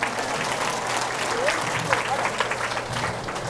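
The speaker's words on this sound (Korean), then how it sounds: "수고해 주신 신부님께 다시 뜨거운 박수 부탁드립니다" A church audience applauds a priest after a mission lecture, sustained clapping from a crowd filling the room evenly at steady loudness, with voices faintly mixed in.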